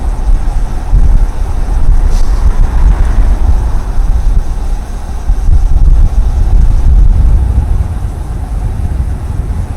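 Wind noise roars over the microphone while riding a Wabi Special bicycle at speed, a dense, steady low rumble with no talking.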